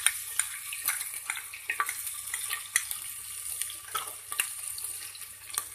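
Ginger sizzles in a pan while rice, soya and chana pulao is being cooked, giving a steady close hiss broken by frequent sharp crackles and pops.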